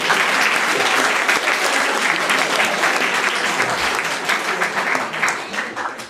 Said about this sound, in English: Let's give one more round of applause to the candidates here.